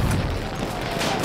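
Shotgun fire in Battlefield 1 packs the moment with dense, loud blasts and crashing bursts of gunfire that carry through without a break.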